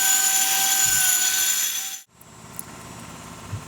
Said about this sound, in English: Now I'm using a diamond cup wheel to smooth out the overcuts